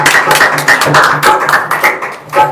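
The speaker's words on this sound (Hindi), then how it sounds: "जोरदार ताली बजाओ परमेश्वर की उपस्थिति के लिए" Congregation at a Sunday church meeting clapping loudly in rhythmic bursts, many hands striking together in a steady pulse, close and prominent with no talk.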